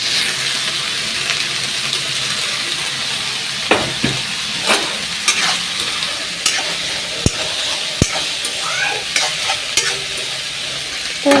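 Cabbage and potato curry sizzling in a pan, loud and close, with a continuous frying hiss, occasional scrapes and sharp clinks of a stirring spoon, and no talk.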